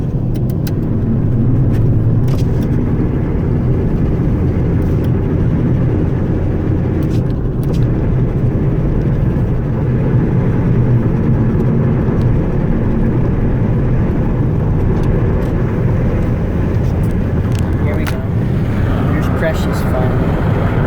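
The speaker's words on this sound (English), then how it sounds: "Alright, now we're going highway driving." A car cruising on a highway gives a steady, even road and engine drone that stays loud and constant throughout, with occasional faint rattles.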